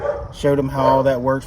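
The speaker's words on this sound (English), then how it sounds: "You might hear a barking dog in the background." A dog barks and yips in the background while someone talks close by, during a pressure washing job.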